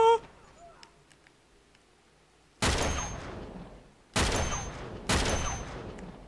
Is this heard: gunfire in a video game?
yes